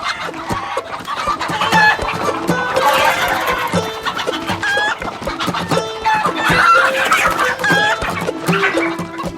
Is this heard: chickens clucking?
yes